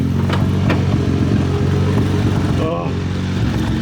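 A Toyota Supra Mk3 with a swapped 1JZ engine pulls away on its first test drive, its deep, close engine rumble steady and strong, with a brief shift in tone partway through.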